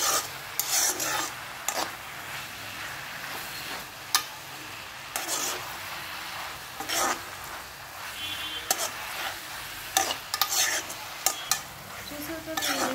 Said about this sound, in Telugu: చూసి వేసుకొని మొత్తం ఈ విధంగా బాగా కలిసినట్టు కలుపుకోండి